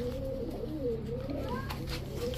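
Pigeons of high-flyer breeds coo in soft, low repeated calls, close by under a steady background murmur.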